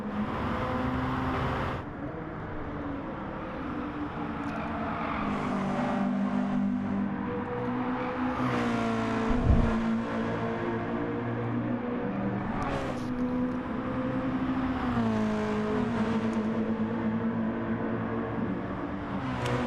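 A sim racing car circles alone at pace, its engine holding a continuous tone that rises and falls through gear changes, with a brief thump partway through.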